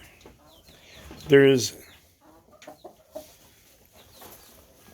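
A rooster gives one short, loud crow close by at a farm kept with several roosters and hens, with speech heard before and after it.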